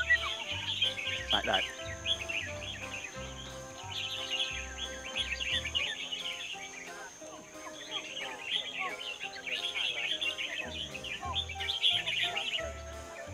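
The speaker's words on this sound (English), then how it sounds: "he listens to how many syllables the birds sing" Birds singing in a bird singing contest, with dense chirping and repeated song phrases throughout, accompanied by people talking in the background.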